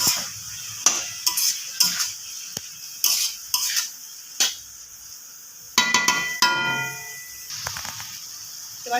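Washed pumpkin pieces go into hot oil with fried tempering spices, setting off bursts of sizzling. Sharp clinks and scrapes of a utensil against the pan punctuate the sizzle, all close up.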